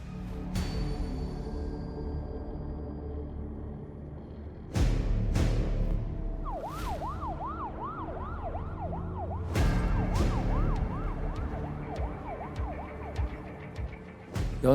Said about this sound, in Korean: 구급차가 막 출발을 하는데